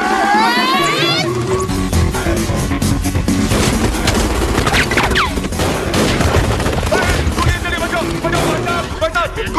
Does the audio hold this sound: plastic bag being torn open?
no